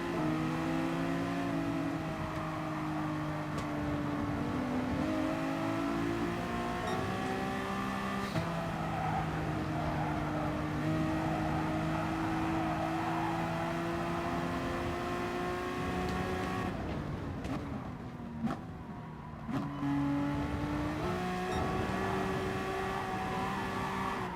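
A Honda NSX GT3 race car engine in the racing game GT Sport at Lago Maggiore, a steady high-revving whine with rising and falling pitch through gear shifts, a brief dip near the end, with no talking.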